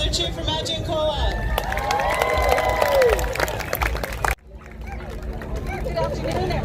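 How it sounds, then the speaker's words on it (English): Crowd at an outdoor freedom rally cheering and applauding, a loud sustained roar with whoops and clapping that cuts off abruptly partway, leaving quieter murmuring. "Let's get another cheer for Matt Giancola."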